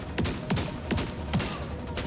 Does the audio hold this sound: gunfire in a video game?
yes